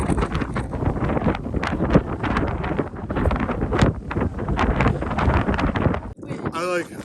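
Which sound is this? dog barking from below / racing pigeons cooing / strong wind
strong wind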